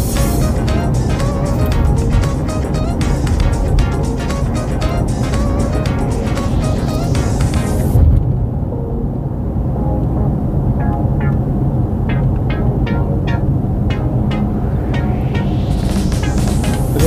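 A car drives along a road with a continuous engine and tyre drone, loud and close. The engine revs up and then eases off during an overtake, with a brief dip in intensity partway through.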